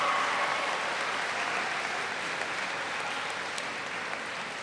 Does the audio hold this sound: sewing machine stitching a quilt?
no